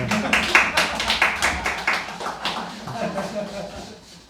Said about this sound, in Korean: 박수 쳐야 됩니다.